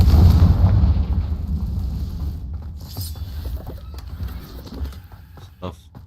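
A Confringo blasting spell goes off in Hogwarts Legacy with a loud, deep booming burst at the start that rumbles and fades over several seconds, followed by quieter game sounds.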